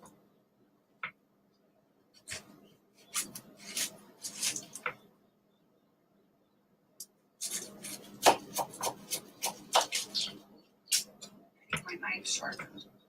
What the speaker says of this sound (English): My knife sharpened.